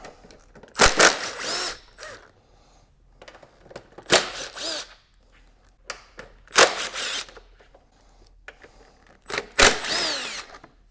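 Cargo tie-down pins come out of a Honda CRF300L motorcycle with a 6mm Allen driver, heard as four loud bursts of power-tool whirring, close and separated by quiet gaps.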